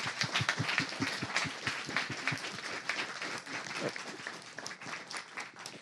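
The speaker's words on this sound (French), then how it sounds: "on peut les applaudir, les Space Wizards" Audience applause follows a game presentation at an indie game night: dense, steady clapping from a room of people, close and continuous for several seconds with no talk over it.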